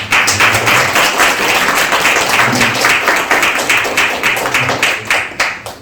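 An audience at a venture forum applauds a company CEO, with steady dense clapping close and loud throughout before thinning out at the end.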